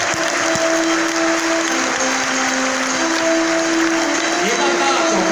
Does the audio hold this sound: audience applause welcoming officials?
yes